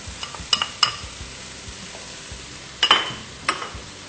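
Chicken fricassee frying in a pot as tomato pulp goes in, a soft sizzle under sharp spoon clinks and scraping stirs that come in short bursts.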